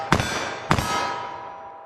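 .357 Magnum rounds fired at a range target, with two sharp metallic cracks about half a second apart, each followed by a ringing decay and no voices.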